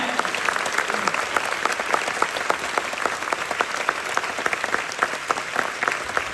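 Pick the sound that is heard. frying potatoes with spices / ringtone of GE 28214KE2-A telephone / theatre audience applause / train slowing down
theatre audience applause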